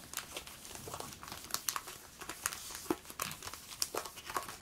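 A Pokémon booster pack wrapper is handled and opened, producing close, crisp plastic crinkling with irregular bursts and small tearing rustles, quiet and intimate, with no talking.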